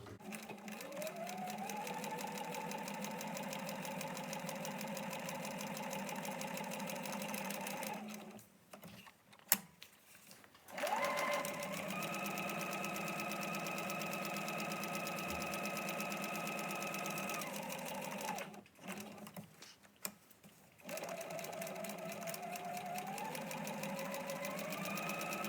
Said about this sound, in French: je vais coudre au point droit et j'ai allongé un peu mon point